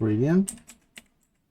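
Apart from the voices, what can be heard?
typing on a computer keyboard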